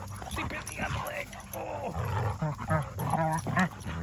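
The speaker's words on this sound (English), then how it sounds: "They came after me, these two quirky dogs." Two dogs growl while fighting over a shoe. Their rough, close snarls rise and fall under a person's excited talking.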